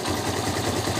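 A Barako motorcycle engine idling smoothly after a push start, a steady low even rumble with a regular pulse, close and continuous.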